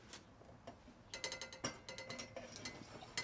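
Pump of a Canadian-made Coleman 335 lantern worked by hand, its leather pump cup dry, giving a close run of quick mechanical clicks and ratcheting rattles in uneven bursts.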